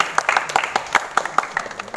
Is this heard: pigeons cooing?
no